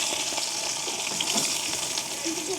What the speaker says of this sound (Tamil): எண்ணெய் வந்து கொதிச்சிட்டுது கொஞ்சமாக கடுகும் பெரிஞ்சிரகம் போடுவோம் அதோட நாங்கள் பெரிய வெங்காயம் போட்டுக்கொள்வோம்